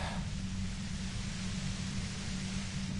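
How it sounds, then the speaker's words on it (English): Steady hissing static fills the scene in the video game Disco Elysium, a constant, fairly loud broadband white noise with no change in level and no voices. "You hear through the white noise"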